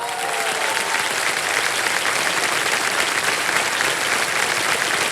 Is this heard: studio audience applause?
yes